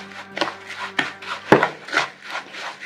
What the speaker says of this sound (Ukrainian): І перемішаю все гарно.